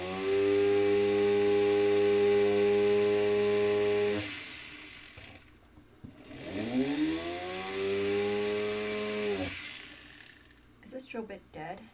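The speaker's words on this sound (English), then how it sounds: "That's a diamond drill bit." A lubricated diamond drill bit whines steadily for about four seconds, falls quiet, then spins up again with a rising pitch before stopping, followed by brief clattering.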